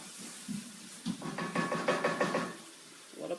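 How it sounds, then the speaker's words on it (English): Sausage sizzling and popping in a soup pot with a little liquid, a close, crackling bubbling that rises and falls in short bursts alongside light knocks of the pan. "You hear that sizzle? That's what you want to hear."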